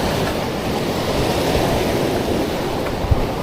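Rough sea crashing on a rocky shore where fishers wade among slippery stones, a loud, steady, close roar of churning surf with no voices.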